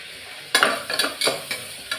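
Curry leaves and coriander powder sauté in a pan for a Sunday lunch, a steady sizzle broken by several sharp bursts of stirring and scraping, close and fairly loud with no voices.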